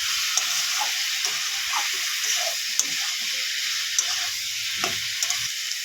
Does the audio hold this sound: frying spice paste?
yes